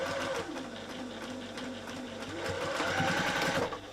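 A sewing machine back stitching along the edge of a fabric bag, a fast steady whirring hum that pauses briefly and then runs on again, up close with no voices.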